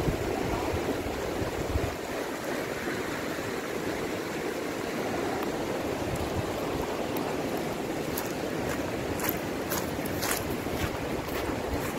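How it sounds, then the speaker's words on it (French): Forest river rapids rushing in a steady, loud broadband roar from start to finish, with water churning continuously and no voices. "Regardez ça, les rapides là-bas."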